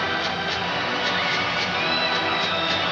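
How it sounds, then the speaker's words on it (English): Sold-out hockey crowd at Chicago Stadium during a 1990 playoff game against St. Louis, a steady dense roar of cheering with some higher shouts, filling the arena continuously and loudly throughout. "Sold out crowd here at great Chicago Stadium"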